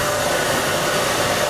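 A blow dryer runs steadily while drying hair in a salon, a loud, constant airy roar with an even whine and no pauses or speech.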